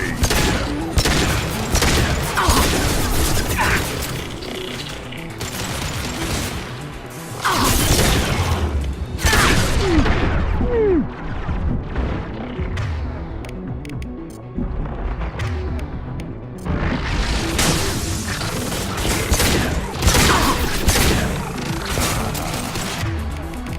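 Heavy gunfire and explosions rage in the sci-fi shooter Mass Effect 2, loud bursts of weapon fire, crashes and booms in dense waves with short lulls, a voice occasionally calling out beneath the din.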